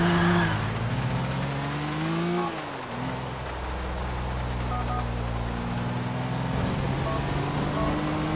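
A car in GTA IV: The Lost and Damned, its engine droning steadily with pitch rising and dipping as it accelerates and shifts, alone and fairly loud throughout.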